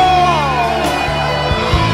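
A church congregation cheers and shouts with joy over loud music, with sustained voices and a brief yell standing out amid the crowd noise.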